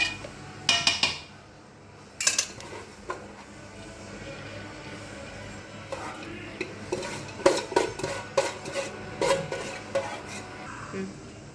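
Cooked rice poured back into a pot for chicken biryani, with scattered clinks and scrapes of a utensil against the metal pot in uneven clusters, close and moderately loud.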